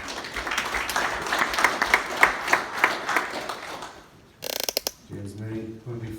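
Brief, scattered clapping from a small group at a Cavan club championship draw, welcoming the Killincare Club chairman and a Belturbet representative. It is moderately loud and fades after about four seconds, followed by a clatter and a short voice.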